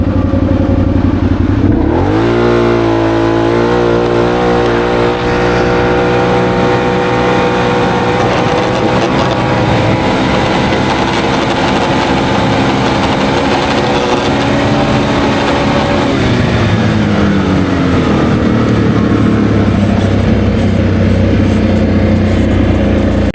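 A Can-Am Outlander G3 XMR ATV fitted with a Dalton clutch kit pulls hard along a dirt trail in two-wheel drive, high range and sport mode, the engine rising in pitch with a steady loud roar and clatter that holds near before easing off toward the end.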